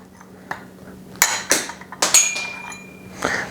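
Hammer pounding a jammed wedge out of a bicycle fork, several sharp metallic strikes about half a second apart, each ringing briefly, close and fairly loud over a low steady hum.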